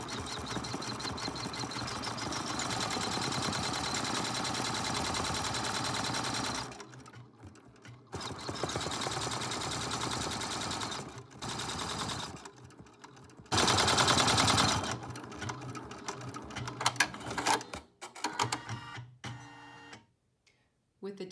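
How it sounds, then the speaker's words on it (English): Embroidery machine stitching decorative stitches on felt applique, rapid mechanical chatter in long continuous runs broken by short pauses and stops, close and loud. "ready to stitch out the decorative stitching that comes next"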